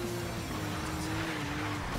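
A Porsche Cayman S drifts in Need for Speed Rivals with a sustained tire squeal over a steady engine drone, close and loud, for about two seconds with no talking.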